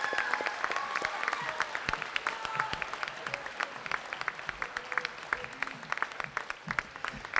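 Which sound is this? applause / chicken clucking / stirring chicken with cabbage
applause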